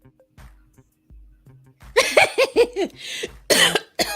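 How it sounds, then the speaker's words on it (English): A burst of several harsh coughs close to the microphone, following a few quiet clicks and soft sounds. "oh my gosh, I'm coughing"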